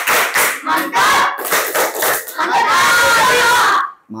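A class of children performs a rhythmic clapping chant, with sharp bursts of claps in a steady pattern followed by loud group shouting, close and energetic.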